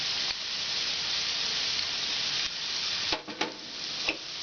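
Chili powder hits onions frying in oil with a steady, close, loud sizzle. A few stirring scrapes come near the end.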